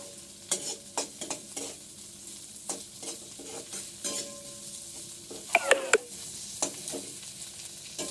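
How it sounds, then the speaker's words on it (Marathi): Crushed peanuts and chili thecha being sautéed in a pan: steady soft sizzle broken by scraping spatula strokes, with a quick cluster of sharper clinks near the end and no voices. "शेंगदाण्याचे कूट थोडे परतून घ्यायचे"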